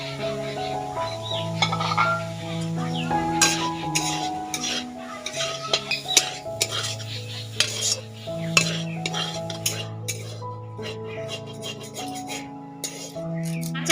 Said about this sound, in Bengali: মাছগুলো দিয়ে মশলার সঙ্গে ভালো করে মাখিয়ে দেব